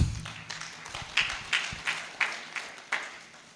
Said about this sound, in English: we have a good habit to clap our hands